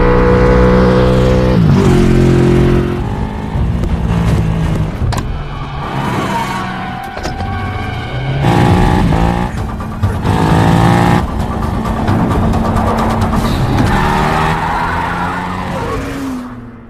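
A movie car chase with engines revving hard and tires skidding and squealing, loud and continuous throughout, with surging engine pitch and overlapping screeches.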